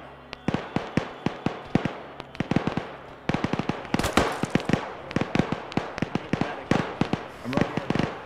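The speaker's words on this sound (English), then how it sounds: "There's some firefights formulating all around" Rapid bursts of gunfire crack and echo from firefights breaking out all around in a military video game, set in Afghanistan, with irregular volleys of sharp shots near and far while a voice talks over them.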